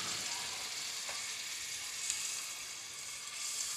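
Half a kilo of minced meat fries in a pan with garlic and ginger, a steady, soft sizzle with faint stirring scrapes and no talking.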